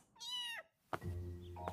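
Mao Mao, a cat in the Apothecary Diaries anime, gives a clear drawn-out meow, then a second louder, lower meow after a brief pause, alone with no talk.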